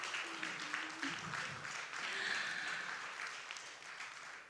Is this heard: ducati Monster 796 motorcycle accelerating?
no